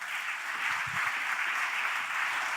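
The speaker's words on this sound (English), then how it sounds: "I'd like to give Tatiana a round of applause and welcome her to stage" Audience applause at a conference welcoming a speaker to the stage, a steady dense wash of many hands clapping, sustained and even throughout, with no talking over it.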